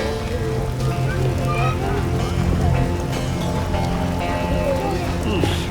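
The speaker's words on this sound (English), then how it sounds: "Oh, it's raining." Steady rain pours down in The Witcher video game, a dense broadband hiss running throughout under game music and other ambient sounds, with no voices.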